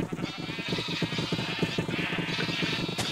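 Sheep bleat over and over in a crowded chorus in a video game, the calls overlapping at moderate volume with a faint shuffling underneath.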